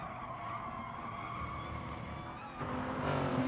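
Tires screech as a race car brakes hard at Monza in a racing video game, a sustained squeal over engine roar that swells louder and harsher near the end.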